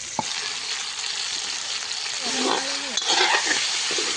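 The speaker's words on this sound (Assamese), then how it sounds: "এতিয়া আলু ভাজি আছো মানে মাংসত দিবা কাৰণে আলুখিনি আগত ভাজি লৈ আছো" Potatoes frying in a pan, set aside for a meat dish: a steady, close sizzle with stirring scrapes throughout, and a brief voice faintly audible partway through.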